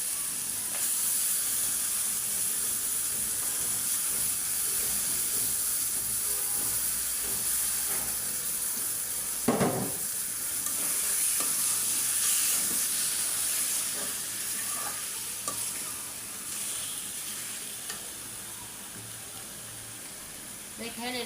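Goat meat with fat and bone cooks in a pan of well-fried spiced masala, giving a long, continuous hiss and sizzle with one loud burst partway through, then a steady simmering fry.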